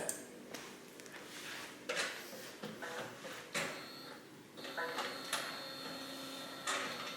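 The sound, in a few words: DTG printer starting up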